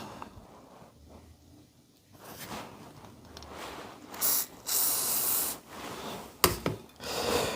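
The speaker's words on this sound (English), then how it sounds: "Get it like wet with WD, because WD is a great rust cleaner." WD-40 is sprayed onto rusty parts of a Benchmade Autocrat 3400BK-2 knife in several close hissing bursts of spray, separated by brief pauses, with faint handling noise before them.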